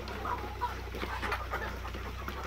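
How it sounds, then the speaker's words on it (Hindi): Desi chickens cluck softly amid a steady low hum, several faint overlapping calls in a short stretch. "मुर्गियां अब अंडा देना चालू कर दी है"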